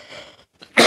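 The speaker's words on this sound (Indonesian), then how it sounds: "Maaf guys, batuk guys." A single sharp cough bursts out loudly right at the end, close to the microphone, after a moment of near silence with faint indoor background.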